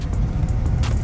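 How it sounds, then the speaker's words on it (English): A Datsun 280Z, long abandoned and revived, with no power steering, is being driven, heard as a steady low engine rumble from inside the car. "We are full on driving in the Z"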